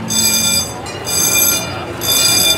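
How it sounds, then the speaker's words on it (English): A train passing by during a seaside walk in Point Pleasant, New Jersey, heard as a repeated high metallic tonal whine in pulsing bursts over a low rumble, fairly loud and close. "got some kind of train"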